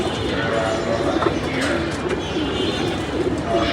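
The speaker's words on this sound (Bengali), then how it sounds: "আর বাকি 2 পিস কবুতর, একটা সিলভার বাচ্চা আর একটা বাহুবলীর মেয়ে" Racing pigeons coo steadily at close range during a tournament, their soft throaty calls overlapping into a continuous murmur with a few brighter chirps.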